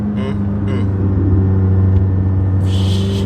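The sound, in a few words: McLaren sports car engine rumbling while driving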